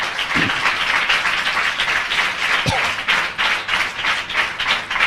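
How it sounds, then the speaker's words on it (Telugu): A church congregation at a Sunday service claps steadily and loudly, dense applause filling the whole stretch without pause, with a faint voice briefly beneath it. "దేవునికి గట్టిగా చప్పట్లు కొట్టి స్తోత్రాలు చెల్లిద్దాం."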